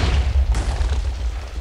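Firework rockets launched in the Minecraft video game, a short deep boom followed by a sharp burst and a rumbling tail, heard alone.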